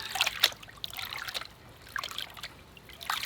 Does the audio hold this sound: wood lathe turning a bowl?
no